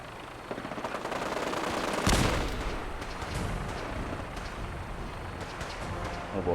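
A robot in a Fallout video game fires its gun in a quick burst of shots, leaving a rumbling, noisy wash of combat behind it.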